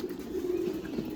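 A Blizzard King pigeon held in the hand gives a low, throaty cooing close up, one soft rolling coo lasting about a second.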